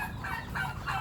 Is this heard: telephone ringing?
no